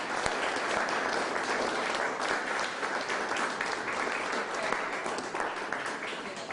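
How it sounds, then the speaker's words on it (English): Steady applause from an audience gathered at White Lion Brewing in Springfield for a governor's small business announcement, continuous dense clapping at moderate level with no pauses. "I want to give them a big round of applause"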